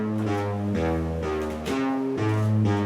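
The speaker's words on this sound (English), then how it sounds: "what you hear is the output of this one voice card" A crOwBX 2.4 synthesizer voice card driven by a sequencer, playing a steady loop of sustained harmonically rich notes that step between pitches every second or so, loud and alone with no talk.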